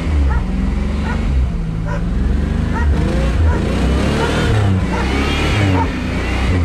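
A dog barks and yips excitedly in short bursts over a loud, revving engine of an old Oldsmobile with seized brakes, with voices mixed in.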